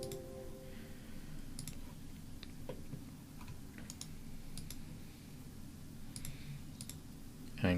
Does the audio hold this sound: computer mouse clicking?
yes